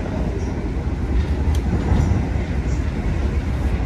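Steady low rumble of an executive express train running fast on the Surabaya–Jakarta southern line, heard from inside a carriage, with a constant broadband roar and faint high squeals.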